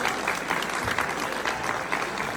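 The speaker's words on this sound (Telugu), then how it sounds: "please give a big clap to Ashok Rama గారు" A crowd at a Ganapathi laddu auction in Barcelona claps for an honoree, a dense, steady burst of many hands close by with no clear speech.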